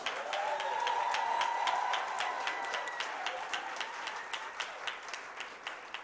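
An evening Black History Month celebration audience applauds the steel drum band, with dense clapping that thins into scattered individual claps as a lingering ringing tone fades underneath.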